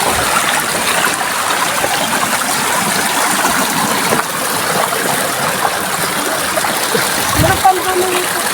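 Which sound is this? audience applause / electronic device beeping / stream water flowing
stream water flowing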